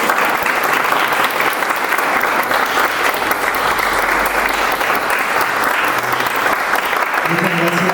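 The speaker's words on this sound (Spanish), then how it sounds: "Quiero pedir nuevamente un aplauso muy fuerte." An audience applauds loudly and steadily at a ballroom community event, a dense, continuous clapping that fills the whole stretch with a few faint voices near the end.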